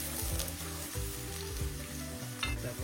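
Light frying in a pan, a steady soft sizzle running without a break, with a low melodic hum in the background.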